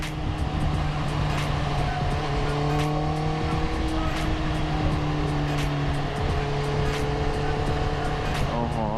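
A Honda CBR 650 R motorcycle overtakes on the road, its engine droning loud and close with gliding pitch changes over steady wind roar. A rider talks over it.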